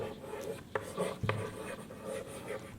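Pens scratch and rub on paper as children in a classroom write, with soft scattered strokes and a few sharper taps over a quiet murmuring room.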